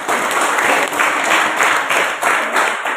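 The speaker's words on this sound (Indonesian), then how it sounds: "Berikan tepuk tangan begitu." A church congregation at a revival meeting bursting into loud, dense applause, rhythmic clapping surging in waves close up for the whole stretch.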